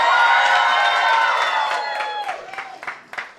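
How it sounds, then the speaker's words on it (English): A comedy show audience cheers and applauds loudly, a full crowd roar with clapping that slowly fades into scattered claps and whoops. "Give me a big cheer if you have got no fucking idea what's going on right now."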